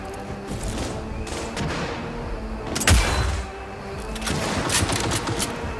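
Gunfire from the video game Cyberpunk 2077, a mix of rapid automatic bursts and single heavy shots with a loud thump near the middle, over a continuous background of game noise.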